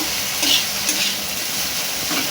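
Raw okra (bhindi) half-cooked and frying in a pan, a steady close sizzle with brief stirring scrapes, no talking.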